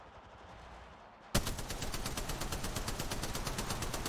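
Rapid automatic gunfire in the video game Apex Legends bursts in loud after a quiet stretch of about a second, then keeps up a dense, steady rattle of shots through the rest of the clip.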